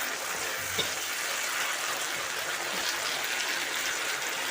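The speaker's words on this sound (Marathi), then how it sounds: "तर ह्या आट्यांना मी 2 मिनटं शिजून घेते." Jackfruit seeds cooking in a hot pan give a steady, close sizzle and crackle, an even frying hiss with a few faint clinks of a stirring utensil.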